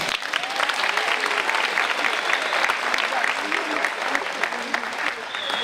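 Audience in a room applauding a quarterback's college signing, continuous dense clapping that is loud and steady throughout, with a few voices mixed into the crowd.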